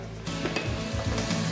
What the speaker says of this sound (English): We're gonna just let those saute for just a second.